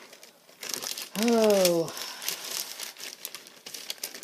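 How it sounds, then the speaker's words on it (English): A plain plastic inner sleeve from a country music vinyl record crinkles loudly for under a second, close up, with a few quiet handling rustles around it and a brief spoken word. "Just a regular, plain Jane, annoying plastic inner sleeve."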